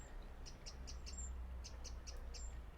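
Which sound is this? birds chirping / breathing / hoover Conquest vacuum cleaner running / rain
birds chirping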